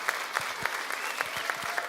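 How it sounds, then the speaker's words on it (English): Audience applause at a conference session, a brief burst of mid-distance clapping with distinct individual claps audible in the wash. "So give Nate Collette a big round of applause."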